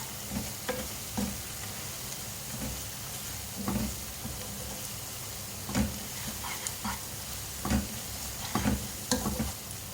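Whole dried red chillies, two black cardamoms and a cinnamon stick sizzle and fry in oil in a pan for keema, a steady crackle broken by sharp pops and stirring clatters, no talking.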